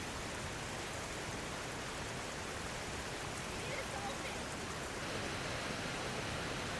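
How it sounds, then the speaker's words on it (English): A waterfall rushing hard on the north shore of Lake Superior gives a steady, dense roar of falling water that stays even and unbroken throughout. "The waterfall is rushing like crazy."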